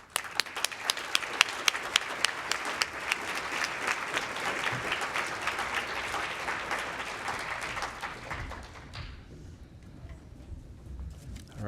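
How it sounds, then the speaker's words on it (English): An audience at a young writers' event breaks into applause, starting with a few sharp distinct claps that build into dense, sustained clapping before fading out near the end. "Let's have one more round of applause for all of our young writers."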